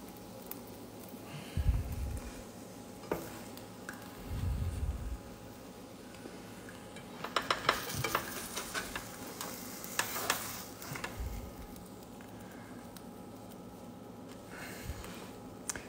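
A keto egg sandwich sizzles in a frying pan after flipping, a steady soft fry under clattering spatula scrapes and low thumps from the pan.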